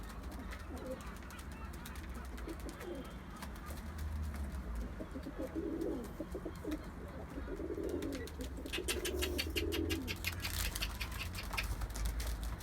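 Domestic pigeons coo repeatedly in a loft setting, soft rounded calls rising and falling over a steady background of rustling and wing flutter, with a burst of sharper patter near the end.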